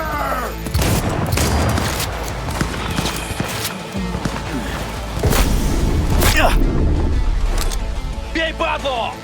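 Loud, dense video game gunfire crackles in rapid bursts throughout, mixed with booms and heavy in-game commotion, while voices shout over the action.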